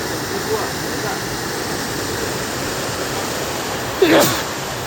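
Water pours steadily at Pykara waterfall, a broad, even rush that fills the scene from start to finish, with a brief splash or knock near the end.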